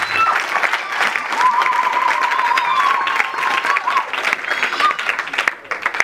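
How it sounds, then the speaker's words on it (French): Strong, sustained audience applause for young students at a presentation event, a dense wash of many hands clapping with some crowd noise, thinning out toward the end. "Est-ce qu'on peut encore applaudir puissamment pour ces jeunes étudiants?"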